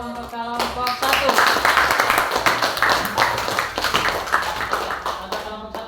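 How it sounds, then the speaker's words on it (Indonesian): A classroom group in a teaching session applauds for the first presenting group: a few seconds of lively clapping from several people at close range, with voices mixed in. "beri aplaus dulu untuk kelompok 1"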